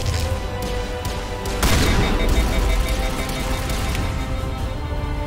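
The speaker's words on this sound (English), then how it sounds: "Who the hell's shooting at me?" Bursts of gunfire in the video game Mass Effect Legendary, with a heavy loud barrage in the middle and scattered shots on either side, set against dense background noise.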